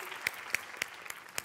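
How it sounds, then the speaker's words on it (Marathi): A comedy show audience applauds in a few sparse, fairly quiet claps spread over a second and a half. "जोरदार टाळ्या"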